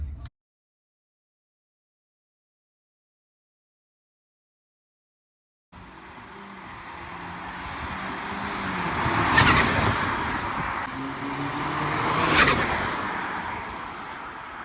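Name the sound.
Audi A4 B8 with Revo stage 2 tune doing a fly-by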